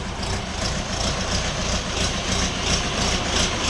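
A Shifeng 404 tractor engine idles steadily with a low, rumbling drone and faint rhythmic pulsing, constant and close with no other sounds.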